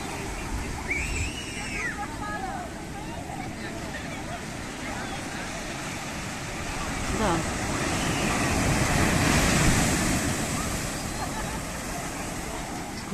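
Ocean surf washes steadily on a rocky shore at Puerto de Santiago, Tenerife, the day after a storm, with wind buffeting the microphone, swelling louder midway as a wave rolls in; a voice speaks briefly.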